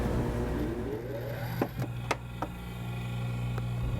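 Polishing lathe spinning a stitch buff charged with heavy cutting compound inside a dust enclosure, giving a steady motor hum with a brief rising whine and a few sharp contact clicks near the middle.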